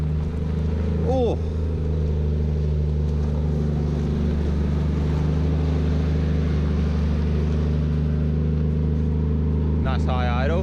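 A Nissan R33 Skyline engine holding a high idle, a loud, steady drone with a constant low hum throughout, with brief squeaky noises near the start and end.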